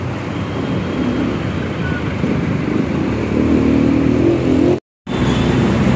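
A Scania K410 bus engine rumbles steadily while moving, a broad low drone with a slight swell near the end, cut by a brief dropout before resuming.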